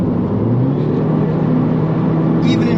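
A Mini Cooper S R56 accelerating hard, with a loud, steady engine drone and rumble building inside the cabin for a few seconds.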